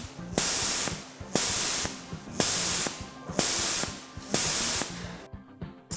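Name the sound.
compressed air hissing from the overpressure valve of the KJ45S tool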